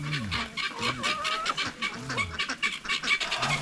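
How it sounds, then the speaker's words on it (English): Guinea fowl on a rural property with animal pens, calling repeatedly: harsh cackling and honking cries in quick uneven bursts, fairly loud and near, several birds overlapping, with no talking. "I don't know if you guys hear it, but back there behind me, that's the guineas."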